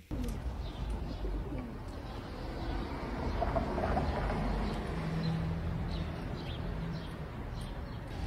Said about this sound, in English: So it's a pigeon.